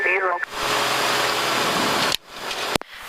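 Light Airvan aircraft engine running while taxiing at Ayers Rock, a loud steady drone heard from inside the cabin that cuts off abruptly, framed by brief radio voice transmissions.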